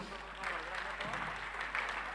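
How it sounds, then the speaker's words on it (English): Faint, distant applause rises from an audience at a school annual day celebration after a performance, a soft, diffuse patter of clapping lasting about two seconds. "A huge round of applause, please."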